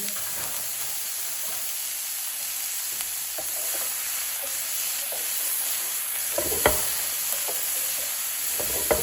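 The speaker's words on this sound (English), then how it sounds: "all I want to do is soften up the onion" An onion softening in a hot pan gives a steady, moderately loud sizzle, with a few sharper crackles and pops from stirring near the end, alongside a pasta and meatball dish.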